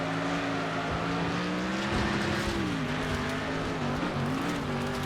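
Racing-game car engine in Next Car Game roaring steadily at a sustained high pitch for five seconds, with shifting revs as cars crash against each other and parts break off, no voices.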